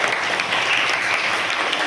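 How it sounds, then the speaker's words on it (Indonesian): Steady applause from a classroom of students, a dense sustained patter of many hands clapping close by for the whole stretch. "Ya, beri tepuk tangan."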